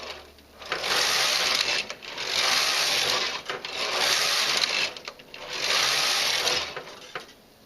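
A domestic knitting machine carriage sweeps back and forth knitting plain rows before a feather and fan lace pattern, giving four loud, even passes of rattling mechanical whirring with brief pauses between strokes.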